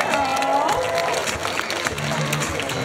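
Steady applause and crowd noise from an audience at the Biloxi Boat Show 2024, a continuous wash of clapping with a voice talking over it.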